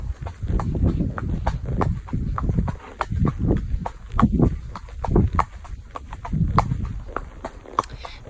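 A horse walks out on a solo hack, its hooves striking in a close, steady clip-clop rhythm throughout with no pauses.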